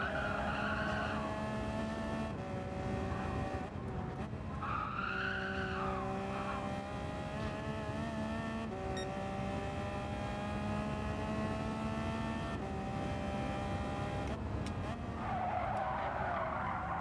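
Tires slide and skid in Gran Turismo 7 during a daily race at Michelin Raceway Road Atlanta, a continuous loud squealing whine over steady engine drone, with a brief voice near the start.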